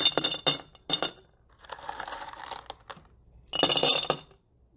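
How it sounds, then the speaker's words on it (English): Small decorative rocks are poured into a glass terrarium, giving close, bright clinking and rattling bursts separated by quieter scraping and brief pauses. "And so you want to add about an inch of rocks in here."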